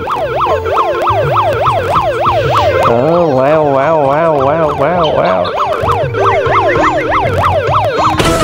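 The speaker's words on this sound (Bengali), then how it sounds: "গ্রামের রাস্তায় অ্যাম্বুলেন্স চলতেছে ভাই" Loud ambulance siren from the mobile video game Meena 2, wailing continuously, switching between a fast warbling yelp and a slower rising-falling wail, electronic and close, with no talking.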